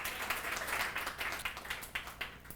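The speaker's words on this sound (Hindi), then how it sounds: "बिल्कुल सही, ताली बजाओ इसके लिए।" Students in a classroom during a physics lecture clap together, a quiet patter of fairly rapid, uneven claps that swells, then thins into a few scattered beats.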